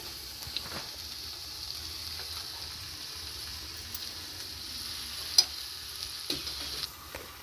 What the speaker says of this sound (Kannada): ಈಗ ಮಶ್ರೂಮ್ ಹಾಕೊಳ್ಳಿ